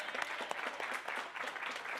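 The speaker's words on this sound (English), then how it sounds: "Another round of applause." Sustained audience applause at a health fair after a panel, dense steady clapping from a crowd at moderate distance, filling the whole moment without speech.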